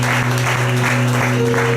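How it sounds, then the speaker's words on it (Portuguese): A church congregation claps steadily throughout a prayer service, a dense, even wash of applause over sustained low keyboard or organ tones. "Aplauda ao Senhor por aqui."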